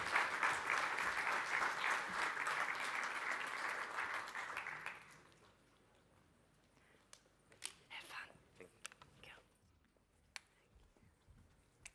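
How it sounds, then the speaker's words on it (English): At a London Tech Week 2023 panel in Westminster, the audience gives a warm burst of applause for the arriving speakers that fades after about five seconds into a quiet room with scattered clicks and faint voices. "So welcome with me, with a big applause, to Caroline Brady, Tatjana Schellewand, and"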